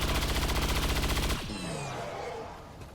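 Rapid gunfire aimed at an Archon in XCOM 2 rattles out as a dense, steady burst for over a second, then cuts off, leaving a fainter tail of ringing and electronic tones.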